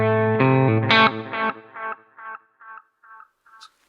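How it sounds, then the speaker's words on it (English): Distorted electric guitar run through a PRS delay pedal: a loud chord then a burst of notes, followed by a string of repeating echoes that fade and shift over a few seconds with no one talking. "So I think it's like a real echo in a room where the delay is changing."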